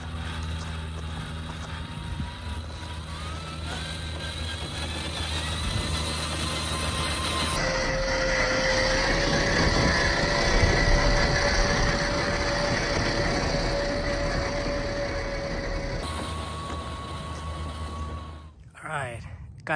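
A 1:7 scale Rlaarlo MK-07 RC car runs in high gear, its electric drivetrain giving a steady, whirring mechanical whine with a clear tone, loud and continuous across the stretch with shifts in intensity.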